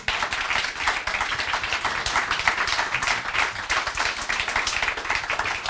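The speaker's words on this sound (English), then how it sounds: "Could we give our panellists, though, a round of applause?" A live audience gives the panellists at a Brexit and creative industries event a steady, dense round of applause, many hands clapping continuously and evenly at close range.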